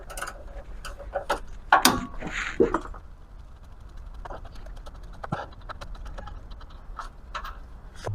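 Metal clicks and ratcheting from a wrench loosening oil pan nuts on a 4x4 first-generation Dodge Cummins, a burst of sharp close taps early on, then scattered lighter clicks and scraping.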